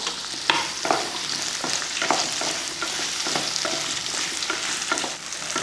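Onion, garlic, ginger and green chilli sautéing in oil in a kadai, a continuous crackling sizzle broken by repeated scraping stirs of the spoon, close and fairly loud with no talking.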